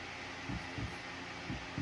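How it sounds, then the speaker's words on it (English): Four dull, low thuds of hammering at uneven intervals, muffled as if through a wall from another room, over a steady faint room hum. "he's hammering on something"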